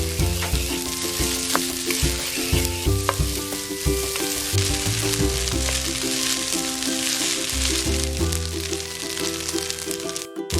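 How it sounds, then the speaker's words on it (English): Broccoli stir-frying in a very hot pan for egg fried rice, a loud continuous sizzle with rattling tosses and clinks of the utensil throughout, no talking. "Your pan is really hot. Add our broccoli."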